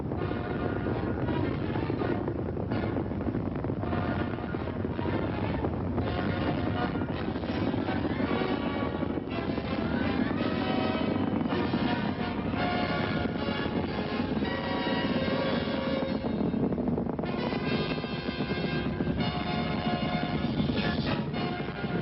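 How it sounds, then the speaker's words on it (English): A Saturn V rocket lifts off on the Apollo 11 launch with a steady, loud, rumbling roar that crackles throughout. The sound is band-limited, like an old archival recording. "Liftoff. We have a liftoff. 32 minutes past the hour. Liftoff on Apollo 11."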